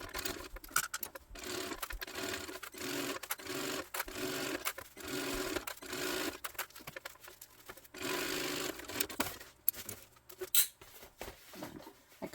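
Sewing machine back stitching the ends of a tote bag seam, bursts of rapid needle rattle starting and stopping irregularly, close but quiet, with small handling clicks between runs.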